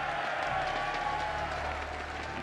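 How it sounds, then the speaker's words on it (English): Crowd cheering and applauding fill a packed convention center at the 2019 WCS Global Finals for StarCraft 2, Serral vs Reynor, a steady loud roar with no clear break. "Crowd getting their cheer on."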